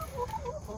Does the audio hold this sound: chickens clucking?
yes